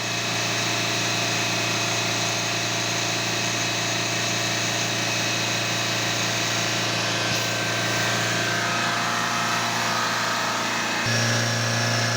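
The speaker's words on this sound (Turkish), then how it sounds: "Gördüğünüz gibi araba yüksek devirde çalışıyor." A Fiat Doblo 1.3 Multijet diesel engine runs steadily at high revs, a loud continuous whine with a dense mechanical hum, pitch shifting slightly near the end.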